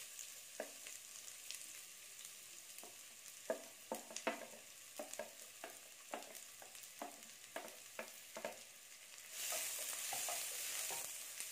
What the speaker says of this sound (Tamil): இது நல்லா சாஃப்டாக வேகணும் அது வரைக்கும் வதக்கிக்கிட்டே இருங்க